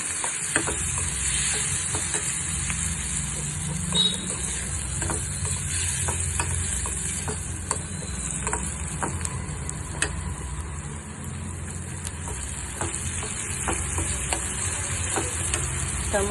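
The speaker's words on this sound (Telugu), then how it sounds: "ఇది బాగా ఫ్రై అయిన తర్వాత ఇందులో మనం కట్ చేసిన టమాటా ముక్కలు వేసుకోవాలను." Chopped tomato pieces fry in a pan for a tamarind-leaf prawn curry, giving a steady close sizzle and hiss. Scattered clicks and scrapes of stirring run through it alone, with no voices.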